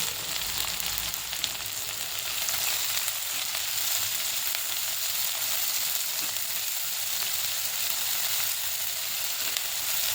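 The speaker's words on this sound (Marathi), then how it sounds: "चांगला गुलाबी रंग येईपर्यंत परतून घ्यायचा." Finely chopped onion and tomato sautéing in a pan for lasooni palak dal, giving a continuous, even sizzle and hiss with faint stirring, close and steady, with no talk.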